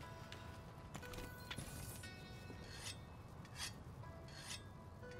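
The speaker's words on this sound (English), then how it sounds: "It's a beautiful horse." Horse hooves in Monster Hunter World: Iceborne, a steady run of clopping footfalls with rasping, scraping texture, fairly loud and continuous, with no talk over them.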